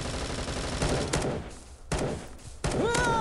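Gunfire in the online shooter game Bullet Force comes in loud, dense rapid bursts separated by brief gaps, ending with a sharp pitched effect.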